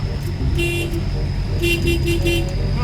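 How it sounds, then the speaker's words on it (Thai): Car horn honks in two bursts, a short toot then a longer series of beeps, over steady road and engine noise. "พี่ตกใจว่าเสียงแตรที่ไหนดัง"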